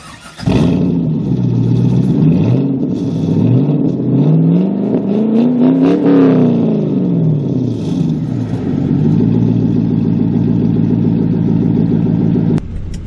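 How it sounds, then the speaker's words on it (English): A 2001 Pontiac Trans Am engine revs up and down repeatedly, rising and falling in pitch, then settles into a steady loud rumble from the exhaust close by. "let me hop in and let you hear what the exhaust sounds like"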